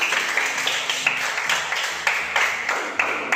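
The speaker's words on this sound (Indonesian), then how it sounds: "Tepuk tangan dulu" A class of students in a classroom claps in rhythmic, patterned bursts while a low musical tone hums underneath, the claps sharp and close in a steady beat.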